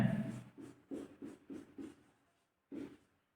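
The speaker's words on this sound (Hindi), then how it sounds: "विधि का नाम लिखते हैं" Hand writing the name of a method during a chemistry lesson on balancing equations, heard as a series of short scratchy strokes in quick rhythm, about six bursts and then a pause before one last stroke, close and fairly quiet.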